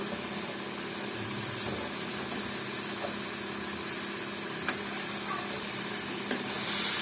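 Potatoes sautéing with spices and dried fish (shutki) in a pan, giving a steady, even sizzling hiss with faint stirring scrapes that runs the whole time without talk.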